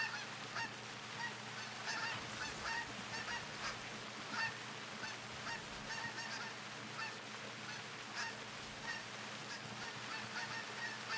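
Geese honking in The Hunter Classic hunting game, a continuous distant flock chorus of overlapping honks over steady outdoor ambience, fairly faint throughout with no talking.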